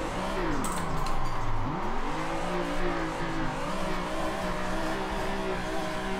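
A car drifting in Assetto Corsa, its engine droning and sweeping in pitch as revs drop and climb with a gear change, with faint tire squeal, close and steady for six seconds.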